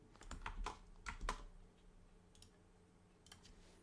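Quiet, close clicking of computer keyboard typing as a command is entered, a quick flurry of keystrokes followed by sparse, softer taps.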